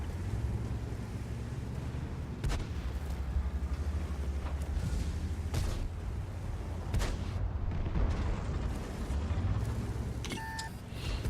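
Tank guns, including a T95E2, fire HEAT shells in a World of Tanks battle, with several sharp booms scattered over a steady low engine rumble, a few louder and nearer than others.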